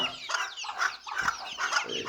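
Chickens and roosters in a backyard coop cluck repeatedly, several birds making a run of short, close, rhythmic clucks.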